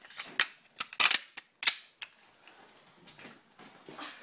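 Gas-powered Uzi BB gun fires a few sharp, loud pops, with a quick burst of cracks near the start and another shot soon after, then quieter clicks and handling noise.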